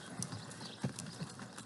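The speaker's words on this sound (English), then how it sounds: "I want the horse just to walk" A horse walks on a ranch, its hooves clip-clopping in a few soft, slightly uneven steps at moderate distance against quiet background noise.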